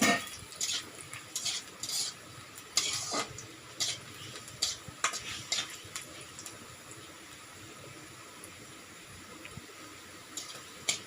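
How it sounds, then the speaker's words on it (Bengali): Onions frying in a pan while a spatula stirs and scrapes them, giving repeated sharp metallic clinks and scrapes over a soft steady sizzle, close and moderately loud. "পেঁয়াজটা একটু ভালো করে ভেজে নেব"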